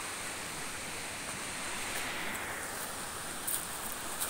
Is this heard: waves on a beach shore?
yes